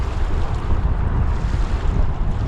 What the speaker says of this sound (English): The wind, not that I want to harp on about the wind, but it has been strong.